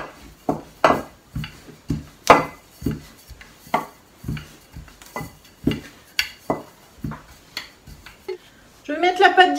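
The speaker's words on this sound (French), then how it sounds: "on va étaler la première au rouleau" A rolling pin works tarte flambée (flammekueche) dough on a kitchen counter, making a series of close, rhythmic knocks and rolling scrapes. A brief voice comes in at the very end.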